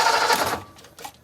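A 1957 Ford Thunderbird engine cranks without catching after an electronic ignition conversion, a brief, steady, fast-pulsing starter churn up close that fades toward the end.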